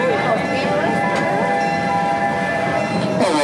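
A Halloween ride train at a family farm in Williston, Florida rolls steadily along with a continuous mechanical rumble and tonal whine from the rails, the sound staying close and even throughout.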